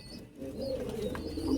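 Soft cooing from a pair of High Flang Teddy pigeons, low throaty notes held close over a faint background hum, with a few brief chirps above.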